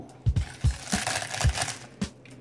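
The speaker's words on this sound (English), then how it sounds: "I'm just gonna crunch these up on top of the chicken" Sea salt and vinegar potato chips are crushed by hand over chicken, giving several close, dry crunches and crinkles in an irregular burst.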